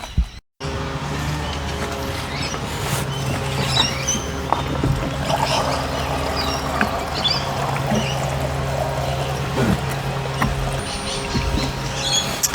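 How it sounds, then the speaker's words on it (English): Fuel is poured into the tank of a barn-find Jaguar Series 3 V12, a continuous liquid pour with light splashing and small metallic clinks, steady and close, with no talk. "We might put some fuel in this thing, see if we can get it started maybe."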